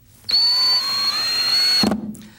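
A cordless drill with a magnetic bit holder drives a drywall screw without a pilot hole, a single loud, steady high motor whine lasting about a second and a half, ending with a brief clunk as it stops.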